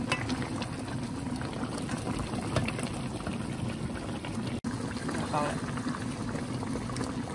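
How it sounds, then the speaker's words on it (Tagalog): Pork belly broth bubbles and simmers steadily in a pan as it reduces, a constant close hiss and gurgle with a voice speaking over it. "ipa-reduce pa na ko gamay ang sabaw ha para makatuhok ug maayo sa ato ang pork belly"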